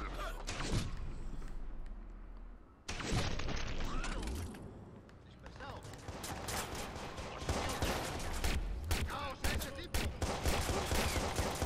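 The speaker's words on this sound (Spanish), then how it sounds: "los disparos tampoco sean muy, muy precisos." Gunfire in the video game Watch Dogs, bursts of rapid shots and heavy thuds filling the scene, nearly continuous and loud with a brief lull partway through.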